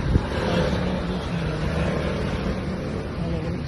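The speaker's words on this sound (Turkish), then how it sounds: "Burada her 5-10 dakikaya bir araba geçiyor." A car passing by on a quiet coastal road where traffic comes only every few minutes, heard as a steady engine rumble and tire noise at moderate distance, fairly faint and continuous.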